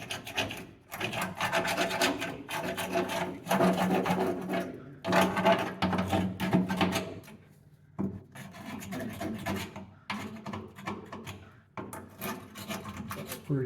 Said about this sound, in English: I think we're just going to hit this with a wire wheel and see what happens.